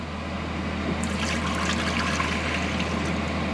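A 16 ounce bottle of liquid poured into a cooking pot for shrimp étouffée, a steady close trickling splash that continues without a break.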